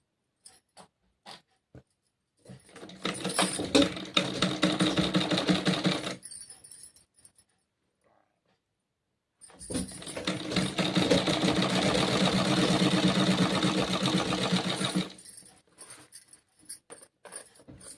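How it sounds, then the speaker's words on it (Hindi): A sewing machine stitches a kurti in two long, steady runs of rapid, close whirring with a quiet pause between and short clicks at either end. "और इसी तरह हम सिलाई लगा लेंगे, सिलाई लगाएंगे।"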